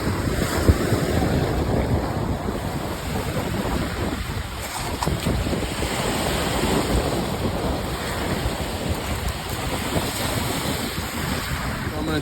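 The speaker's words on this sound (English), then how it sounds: "The wind's whipping, the waves are kicking up" Wind and surf on the western shore of Lake Michigan, a steady roar of breaking waves with wind buffeting the microphone throughout, loud and close with no talk.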